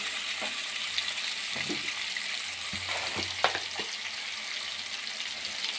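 Lemon pepper fish frying in a pan, sprinkled with ground black pepper and a few drops of lemon juice, giving a steady close sizzle with scattered scraping and clinking sounds from a utensil.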